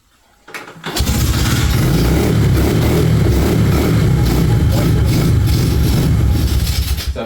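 A 110 Rookie motorbike fitted with a new engine starts after a brief crank, then runs at a loud, steady, rough roar close by for several seconds without any talking.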